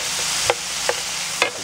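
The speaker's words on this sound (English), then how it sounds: "And toss it around, make sure it'll spread out" Sliced steak hisses steadily in a hot pan as it is tossed, with a few sharp scraping clatters of the utensil breaking through the loud, continuous sizzle.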